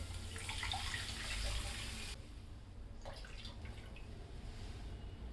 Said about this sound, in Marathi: आता मी याच्यामध्ये पाणी घालते